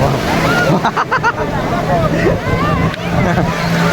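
Sea waves wash ashore at Cox's Bazar beach in a continuous, loud rushing surge, with people talking over the water.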